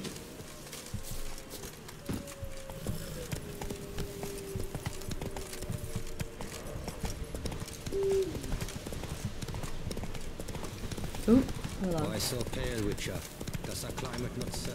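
Roach the horse galloping in The Witcher 3, steady clip-clop hoofbeats running throughout alongside game sounds, while someone talks over them.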